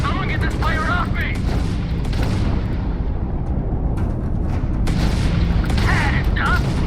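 Enemy gunfire in the sci-fi video game Starfield, a steady barrage of shots and booms running under intermittent voice chatter throughout.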